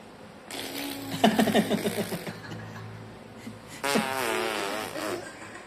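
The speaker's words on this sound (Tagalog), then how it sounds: "Umutot ka." A baby makes a series of short, rapid fart-like lip trills, followed by a longer buzzing raspberry, close and fairly loud.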